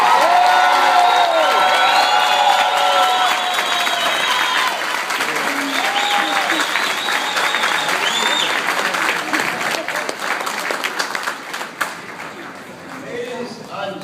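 Loud audience applause with cheering and whoops at a speaking event in Brooklyn, a dense roar of clapping that gradually thins and fades, with scattered voices calling out over it.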